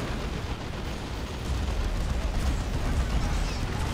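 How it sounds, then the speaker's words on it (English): A Leman Russ tank firing in Dawn of War 2 amid a battle, producing a dense rumbling wash of heavy cannon blasts and explosions that swells louder midway, with a commentator's voice faintly under the din. "That Leman Russ getting shots off."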